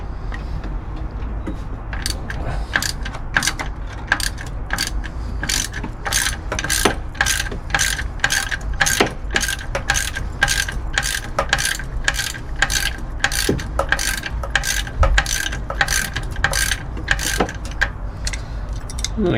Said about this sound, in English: I'm going to have to try to hold this nut with this crescent wrench while I spin it off on the other side.